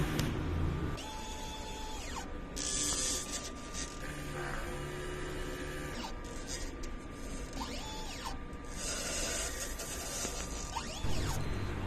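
A DTF printer running head cleaning whirs and hums steadily, with carriage movements sweeping back and forth and occasional clicks and ratcheting, close up with no talking.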